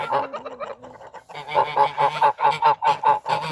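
A goose on a farm honks close by in a quick run of nasal calls, first softer and then a louder, rhythmic series of repeated honks.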